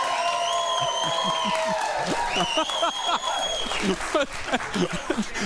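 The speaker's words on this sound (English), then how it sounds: "if you keep clapping like that" Talk-show studio audience claps and cheers, with whoops and shouts rising over steady applause and a voice talking through it.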